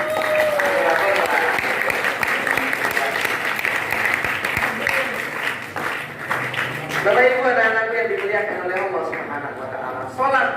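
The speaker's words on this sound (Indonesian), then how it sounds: "Tepuk tangan untuk santri-santri." A crowd of students at an Isra' Mi'raj gathering at an Islamic school claps continuously in loud, dense applause for about ten seconds, thinning slightly near the end.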